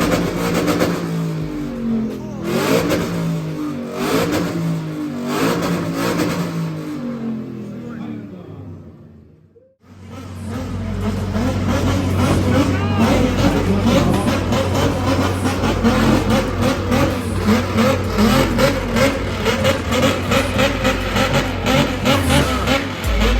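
A car exhaust on two-step launch control revs and crackles in sharp repeated bursts, then after a brief pause roars steadily under loud music.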